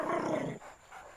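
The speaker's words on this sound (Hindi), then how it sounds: "तू क्या गुर्रा रहा है?" A dog growls in a Hindi comedy film scene: a low, rumbling growl for about half a second, then quiet.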